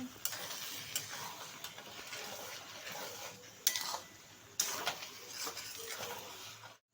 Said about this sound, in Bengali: ঢাকনাটা খুলে দেখলাম চালটা সিদ্ধ হয়ে গেছে এবার একটু নেড়ে